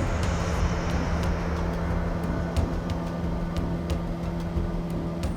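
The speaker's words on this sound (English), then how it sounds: "You can definitely hear a plane propeller" A propeller plane drawing closer overhead, a low steady drone with a sustained hum sitting under broadband outdoor rumble, fairly distant and even in level throughout, with faint clicks scattered on top.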